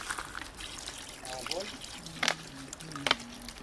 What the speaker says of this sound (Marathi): आणि आता टाकू आपण याच्यात पाणी.